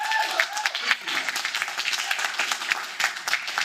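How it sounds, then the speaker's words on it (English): Audience applause after a post-show talk, a dense wash of many hands clapping at steady volume throughout, with a few voices briefly audible at the start. "so let's give them a round of applause for that."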